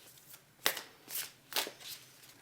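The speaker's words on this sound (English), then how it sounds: "I'm going to give them a good shuffle" A deck of animal oracle cards being shuffled by hand, giving several quick riffling bursts close up and fairly quiet, with no talking.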